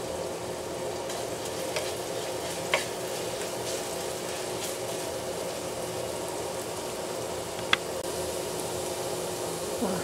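Garlic sizzling in hot cooking oil in a pan, a steady soft frying hiss throughout with a few faint clicks, no voices.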